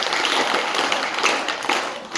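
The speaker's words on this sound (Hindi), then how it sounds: "अपने लिए जोरदार तालियां इन बच्चों के लिए।" Schoolchildren clap together in a school hall, a dense, steady patter of many hands lasting throughout with no voices.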